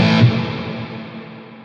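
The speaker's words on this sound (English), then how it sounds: "Now you notice the Musket fuzz is on." A guitar played through a Musket fuzz pedal rings out as a single thick, distorted chord that opens loud and fades steadily, with no talking.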